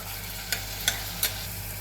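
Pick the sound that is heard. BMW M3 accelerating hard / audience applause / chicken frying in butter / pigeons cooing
chicken frying in butter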